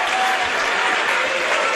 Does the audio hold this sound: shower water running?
no